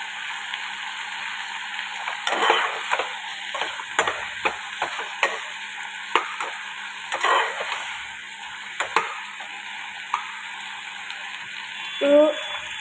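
Tomatoes fry in a pan for chutney with a soft, steady sizzle. Scattered clicks and scrapes of stirring punctuate it at moderate loudness.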